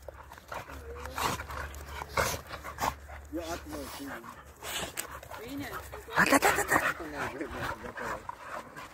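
Staffordshire terriers play roughly, giving bursts of barks, yips and panting at close range, with a louder flurry near the end and people talking in the background.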